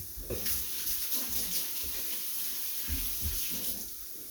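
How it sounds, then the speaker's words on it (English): Tap water runs steadily at low volume with brief splashes and rubbing as hands are washed nearby. "Wash my hands."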